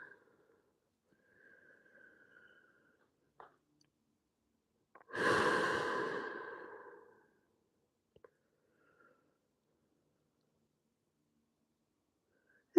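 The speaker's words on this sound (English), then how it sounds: "Breathing deeply" A single deep, slow exhale during a relaxing full-body stretching exercise, breathy and close, rising suddenly and fading over about two seconds amid near silence.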